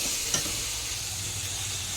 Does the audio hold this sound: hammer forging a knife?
no